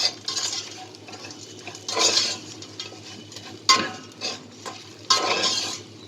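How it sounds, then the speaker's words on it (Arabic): Fried bread is stirred in oil inside a large pot, making repeated scraping and metallic clinking strokes in bursts over a faint, steady sizzle close by, with no voices. "هقلب بس شويه كده لحد ما احس ان الايه العيش بقى متحمر"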